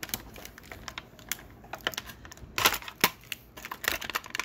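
A chunk of plastic is cut off a Merman action figure: a run of small dry clicks and snaps, with a few louder crisp cracks in the middle, close and without talk.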